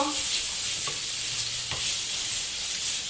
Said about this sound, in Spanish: cuando el aceite ya esté un poquito caliente, añadiremos el ajo. Lo moveremos un poquito.